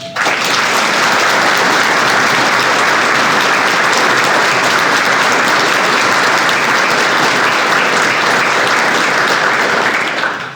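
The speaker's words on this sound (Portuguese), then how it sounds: "que recebe agora o nosso aplauso" A hall audience at a company long-service ceremony gives sustained, loud applause for Antonio Sérgio Gabriel and Sueli, dense even clapping for about ten seconds with no talking.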